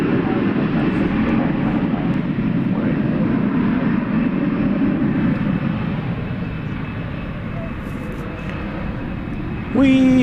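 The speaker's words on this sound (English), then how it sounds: "We've got American 1684 and Airbus A321 going to San Antonio, Texas." An American Airlines Airbus A321 airliner at DFW Airport at night, its engines a steady, broad roar that lingers at a distance and swells slightly near the end.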